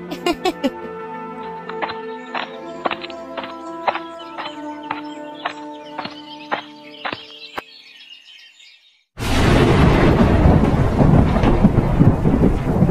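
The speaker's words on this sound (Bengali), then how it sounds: "এই তো বৃষ্টি এলো খুব জোরে" Heavy rain suddenly pours down in a loud, dense roar after a stretch of rhythmic plucked music, continuing steadily to the end.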